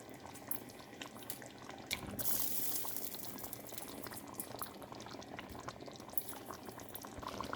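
Fish curry kulambu with tamarind simmers at a boil in a pot, a quiet, continuous bubbling and crackling with small pops throughout and no talk.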